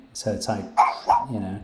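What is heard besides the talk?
real dog barking, wanting to go out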